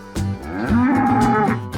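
A cow moos once on a farm, a loud, close, drawn-out low call lasting over a second, alone without speech.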